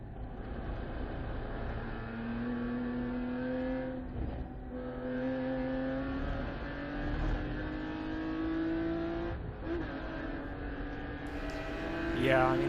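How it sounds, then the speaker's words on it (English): Inside a race car during a 2020 US Endurance Championship race, the engine drones steadily and rises through gear changes, and near the end another car's engine climbs in pitch as it pulls alongside on the inside. "I heard a car up the inside there"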